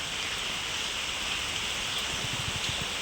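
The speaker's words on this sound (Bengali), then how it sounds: "হঠাৎ মানে পড়ানোর টাইমটা যেই শুরু হবে তখন থেকেই অজরে বৃষ্টি শুরু হলো" Steady rain falls in a constant dense hiss from start to finish, with no talking.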